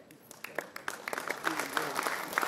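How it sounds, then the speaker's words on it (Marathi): Audience applause at the Janasthan award ceremony as a senior playwright is honoured, a dense patter of clapping that swells and stays steady over about two seconds, with a few voices mixed in. "जोरदार टाळ्या वाजवून"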